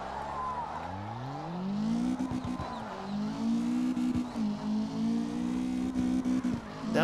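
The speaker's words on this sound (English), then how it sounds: "I'm not really a fan of this engine sound." A revving race-car engine climbs and holds in pitch, with repeated tire squeals and skids as it drifts in the video game CarX Drift Racing Online, fairly quiet and without speech.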